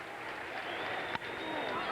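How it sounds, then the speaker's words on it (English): A baseball stadium crowd at a Reds vs Cardinals game in 2004 keeps up a steady, dense roar of voices and murmur, hoping for a rally, with one brief sharp knock partway through. "Crowd wants a rally."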